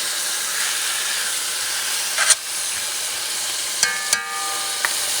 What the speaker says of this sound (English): Now just going to brown it a little bit